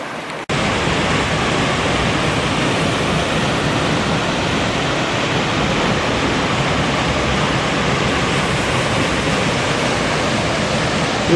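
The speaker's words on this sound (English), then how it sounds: "Not as much water running over it as there usually is." A Smoky Mountains waterfall with reduced flow after dry weather, a loud, steady rushing hiss of falling water filling the scene without pause, close by and unaccompanied.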